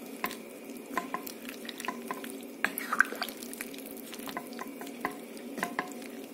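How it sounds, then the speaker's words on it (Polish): Spoon stirring sliced sausage into beans in a pot on the stove, with soft scraping and wet squishing taps at an uneven rhythm, quiet and close against a faint background hiss. "Przemieszamy."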